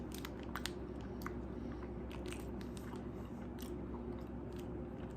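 Crunchy biting and chewing of a Skippy peanut butter Salted Nut Roll with peanuts, close and continuous, with dense irregular crackles and crunches filling the whole stretch and no talking.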